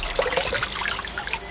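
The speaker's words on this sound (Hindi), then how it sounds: "अचानक ही भयंकर बारिश शुरू हो गई।" Torrential rain pours down amid flooding water around a village, heard as a dense, continuous splashing and trickling rush with bubbling glints of water, close and steady throughout, with no voices.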